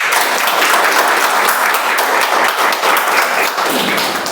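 Full round of applause from a Toastmasters club meeting audience, dense and loud clapping that holds steady for several seconds before easing slightly.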